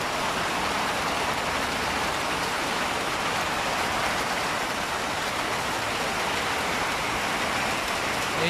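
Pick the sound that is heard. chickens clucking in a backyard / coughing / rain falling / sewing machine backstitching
rain falling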